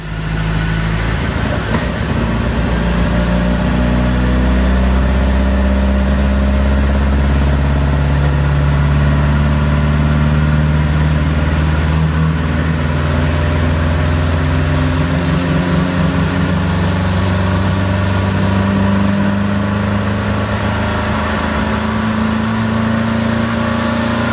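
A 1967 Sunbeam Alpine engine idles at about 850 RPM, a loud, steady, low rumble that holds even throughout with no pauses or revving.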